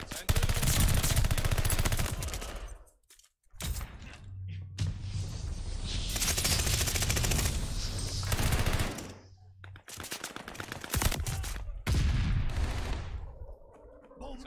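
Sustained automatic gunfire in Call of Duty: Warzone, with loud dense rattling bursts nearly continuous across the clip and brief pauses between volleys, a voice faintly present underneath.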